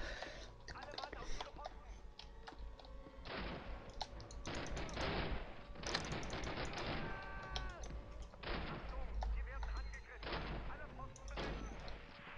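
Dense gunfire from the video game Call of Duty, with rapid bursts, heavy explosive booms and a constant crackle of shots filling the whole stretch at steady loudness, a voice talking over it at times.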